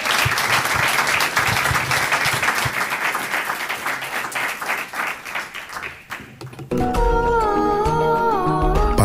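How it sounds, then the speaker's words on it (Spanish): An evening lecture audience gives a strong, dense round of applause for two speakers after their talk. The clapping fills most of the moment, then gives way to music. "Un fuerte aplauso por su ponencia esta noche."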